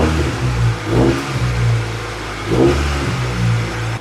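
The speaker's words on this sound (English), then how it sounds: "who wants to see what a muffler delete Integra sounds like?" A loud, raspy Acura Integra engine with the muffler removed revving up and down repeatedly, close and unmuffled, with a throaty rumble between revs.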